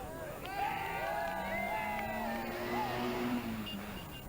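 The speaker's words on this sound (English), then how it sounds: "Listen out now for the cheer that the Dungarvan crowd were to give their favourite rally driver" A Dungarvan crowd cheers a favourite rally driver, Marie Maloney, during the 1984 Circuit of Ireland rally, with shouts and whoops rising over a passing car engine at moderate distance.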